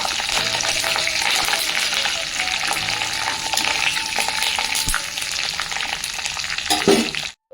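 Tempering of curry leaves and cashews frying in hot oil, a dense, crackling sizzle up close with some stirring, ending abruptly near the close.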